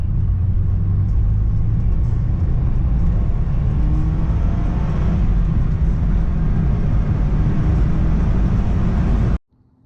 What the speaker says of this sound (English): The turbo is a little bit louder though.